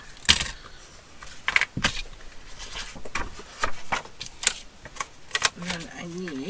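Paper trimmed for ephemera crafting: several sharp snips and cutting clicks in irregular bursts, close up, with small rustles of paper in between.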